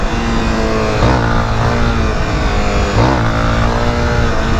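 Honda XRE-300 motorcycle engine, new, revving loudly and continuously close by, with two sharp rev rises around the gear slipping from neutral into first, no talk over it.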